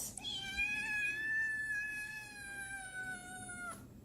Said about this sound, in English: She talks a lot. Cat 2 talks a lot.